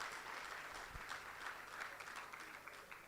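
An audience applauds a minister at an entrepreneurship festival pitching event: steady, moderately loud clapping for about three seconds, dense and even with no voices.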